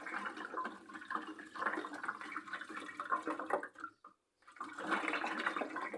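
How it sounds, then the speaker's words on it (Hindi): Electrolyte powder is stirred into about one litre of water for chickens, giving a close, continuous swishing and sloshing. The sound drops out briefly, then picks up again. "अब हमने इसको अच्छी तरह से हल करना है। इसको अच्छी तरह से आपने ऐसे मिक्स कर लेना है दोस्तों।"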